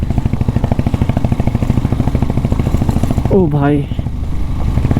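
A motorcycle labours along a steep off-road mountain track at high altitude, its engine loud and close as a steady throbbing drone. A man calls out briefly partway through, and the engine runs on beneath him.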